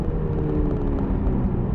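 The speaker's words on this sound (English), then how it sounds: "This 2-liter engine, it sounds good." A BMW Z4 20i with a 2-liter engine drives along with a steady low exhaust rumble and road noise, fairly quiet and constant, with no talk.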